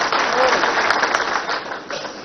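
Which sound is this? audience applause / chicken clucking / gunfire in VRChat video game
audience applause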